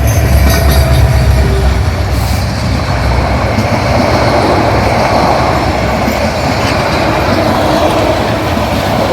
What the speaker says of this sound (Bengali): সেই পাশ থেকেই কোনো আগাম শব্দ ছাড়াই ট্রেন আসছে